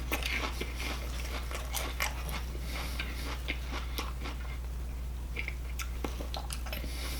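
Someone chews a Burger King spicy chicken sandwich, close and fairly quiet, with irregular crunchy bites and moist mouth sounds across several seconds and no speech.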